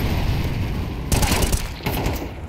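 Counter-Strike gunfire in a pro match at IEM Katowice 2025: dense rapid rifle bursts crackle over busy game ambience, with one loud cluster of shots followed by a shorter burst.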